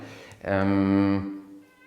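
A single drawn-out meow, loud and close, with a faint trailing cry at the end.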